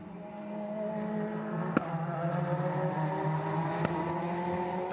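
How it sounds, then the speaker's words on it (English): Ferrari GT race cars, including a 488 GTE, lapping the Imola circuit in Italy, their engines holding a steady loud drone with rising and falling pitch, and sharp shifts or passes around two and four seconds. "5 of our Competizione GT drivers then bringing these GT cars around the Imola circuit for all of us to enjoy"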